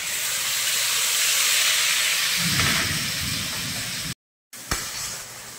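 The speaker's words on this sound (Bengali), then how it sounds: "এবার আমি দিয়ে দিলাম বেটে নেওয়া পেঁয়াজটা" Ground onion paste hitting hot oil with whole garam masala, a loud, steady hiss and sizzle close by, briefly cut off and then resuming.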